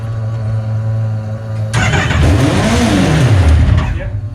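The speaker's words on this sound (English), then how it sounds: "Do a quick start. If it revs up quick, turn it off." Small engine with fuel injection cranking and catching, then revving up sharply with a rising and falling whine, loud and close over a low idle-like hum at the start.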